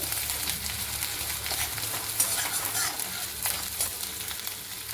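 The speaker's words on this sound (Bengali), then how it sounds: "দিলাম 4টে এলাচ, আর 4টে লং, আর 2-3টে শুকনো লঙ্কা। 1 মিনিট একটুখানি একটু ভেজে" Whole cumin, four cardamom pods, four cloves and a few dry red chillies fry in a pan, making a continuous close hiss with scraping stirs throughout.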